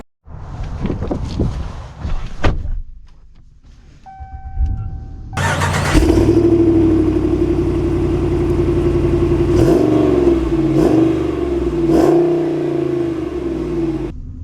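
A 2024 Ram Power Wagon pickup truck starts up with a loud engine roar after a few clunks and footsteps, then settles into a steady idle before revving and pulling away, its engine note rising and falling close by.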